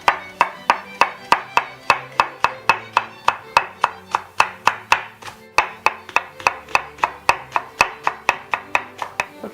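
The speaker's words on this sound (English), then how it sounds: "we're chopping up our leeks over here for the base of our cassoulet" A knife chops leeks into rings on a cutting board for a cassoulet base, with about thirty crisp, evenly spaced thuds in a steady fast rhythm, close and clear.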